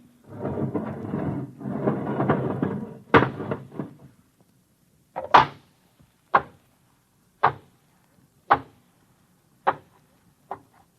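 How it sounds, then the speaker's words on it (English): Radio drama effect of an airlock's inner door opening in a bunker: a long hissing whoosh of air, then a series of sharp, close metallic clunks and thuds spaced about a second apart, fading toward the end. "All right, open the inner door."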